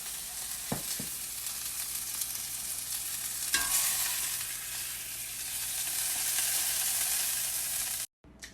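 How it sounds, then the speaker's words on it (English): Skirt steak frying in a pan gives a dense, steady, fairly loud sizzle with a few brief knocks near the start, then cuts off abruptly near the end, with no speech. "You're going to want to cook your skirt steak for about 4 minutes on each side."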